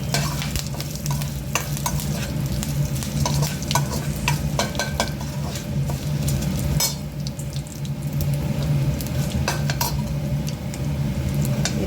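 Spices tempering in hot oil for a Telangana-style mint and coconut chutney give a steady, close sizzle, with scattered clinks and scrapes of stirring throughout and no talking.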